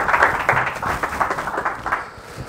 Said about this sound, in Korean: 뜨거운 박수 한번 주시면